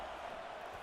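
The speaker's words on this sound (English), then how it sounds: "It's early, but this crowd is fired up." A steady, roaring stadium crowd in a college football video game, a loud, even wash of cheering noise that holds unbroken through a very short moment.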